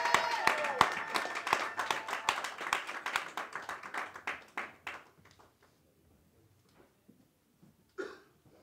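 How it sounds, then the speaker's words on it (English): Audience at a comedy roast in a tavern claps in a burst that fades over about five seconds, followed by near-silence and a brief cough or vocal sound. "So please give him a round of applause."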